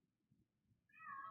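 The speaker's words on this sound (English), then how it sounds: "This is my cat." A pet cat gives a single clear meow near the end, rising after a second of near silence broken only by faint low rustling, and it sounds close but quiet.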